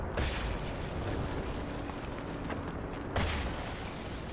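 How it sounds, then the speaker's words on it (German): Two muffled booming grenade blasts in Rise of the Tomb Raider, one at the start and another near the end, over a dense rumbling wash of game noise. "Explosive Granaten."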